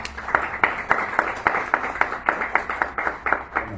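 A small group at a university book presentation claps steadily, with regular sharp hand claps repeating at an even rhythm, fairly close and with no talking.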